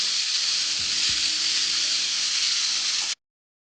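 Besan gram flour fries with cumin in a pan for kadhi, a loud, steady close sizzle with a couple of faint stirring scrapes, cutting off abruptly after about three seconds.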